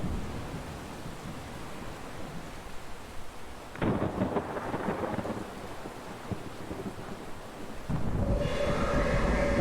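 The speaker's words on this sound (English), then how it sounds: "Got some serious storm activity now." Rumbling thunder and heavy storm wash in the Jupiter atmosphere of the Exo One video game, a continuous roar with a louder crash near the four-second mark and a swelling surge toward the end.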